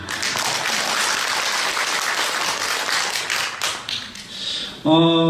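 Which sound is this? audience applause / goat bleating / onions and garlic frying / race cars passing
audience applause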